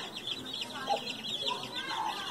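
Chickens in a rural coop cluck softly with a few short, scattered calls over a faint background, heard from a moderate distance.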